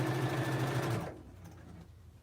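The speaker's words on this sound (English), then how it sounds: "So I'm sewing on my Juki again." A Juki sewing machine stitching a quilt block runs in a steady fast whir for about a second, then stops, leaving quiet room tone.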